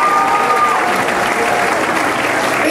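Sustained audience clapping at a stage jubilee performance, a thick continuous wash of hands that stays loud and even throughout, with a few faint voices mixed in.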